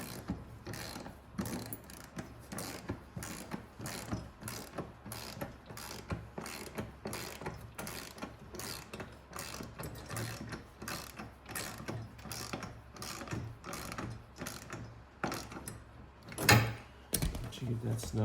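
Ratchet wrench clicking as bolts are tightened on a rear seat kit for an EZGO golf cart, with repeated bursts of quick mechanical clicks close by, and a person talking intermittently over it.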